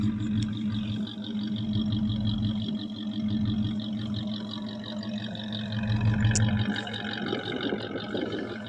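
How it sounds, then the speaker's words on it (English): A 1984 Chevrolet Suburban idles after its first cold start in three years, a steady low rumble with a slight swell partway through. "First start in 3 years of the 1984 Chevy Silverado Suburban"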